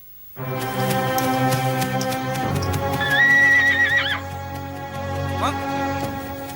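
Horse whinnies loudly and close by in a dramatic outdoor scene, a long shrill neigh rising and falling over a bed of background music, with hooves faintly clopping.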